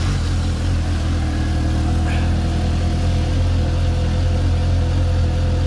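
A Suzuki GSX-S750 motorcycle with its original exhaust, idling at a steady, loud, close-up engine rumble with a constant low hum and no voices.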